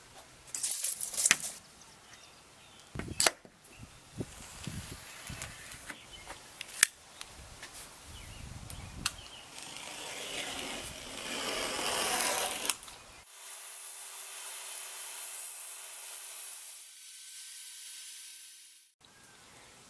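Circular saw ripping a sheet of plywood down to width for a T-leg workbench, loud buzzing cut for about thirteen seconds with scraping handling noises, then the blade spins down alone.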